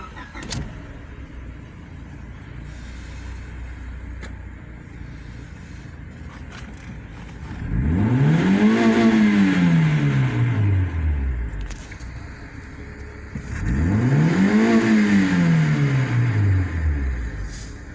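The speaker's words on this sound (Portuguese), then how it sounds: "Vamos escutar ligar a partida?" A 2000 Honda Civic LX engine cranks and starts, then revs up twice in long rising-and-falling sweeps, loud and close, with a steady idle between.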